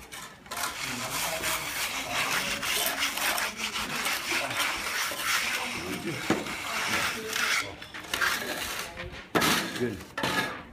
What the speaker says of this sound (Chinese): 现在开始要磨了，磨底